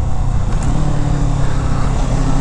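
Kawasaki Z650 motorcycle engine revving hard up close for a wheelie, a loud rough roar that holds steady across the short burst.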